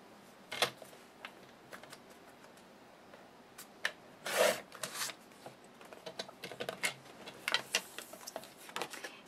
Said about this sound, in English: I'm going to cut all of these papers down at 1-inch strips.